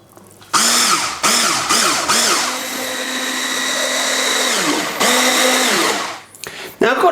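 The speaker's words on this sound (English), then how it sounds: "Now, next of all, I'm going to get my blender." An electric blender whirs loudly while blending vegetable soup with tortellini pasta, starting and stopping in several short pulses before a long continuous run, then cutting off, with a brief restart at the end.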